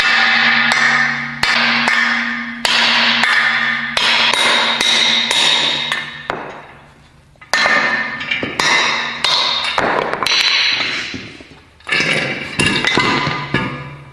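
Hammer blows on a car's CV axle during removal on a Subaru STI build, loud metallic strikes repeated in several quick bursts with ringing pings and short pauses between, close and alone without talk.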